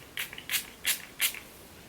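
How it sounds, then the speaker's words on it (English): Four short, close bursts of setting spray hit a clean sponge in quick, even succession, each a brief airy hiss. "So I like to just spray it onto a clean sponge"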